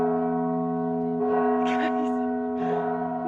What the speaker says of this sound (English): and then the bells started ringing.